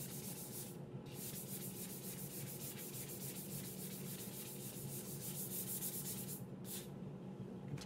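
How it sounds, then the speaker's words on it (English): Fine-grit sandpaper scuffs around the surface of a stainless steel tumbler in a steady, continuous rubbing rasp, close and even, with two brief pauses as the hand shifts position. "Just scratching the surface of my tumbler all the way around it."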